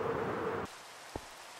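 Rain in the game Pixelmon Minecraft gives a steady, close hiss that stops abruptly after a moment, leaving near silence broken by two faint taps.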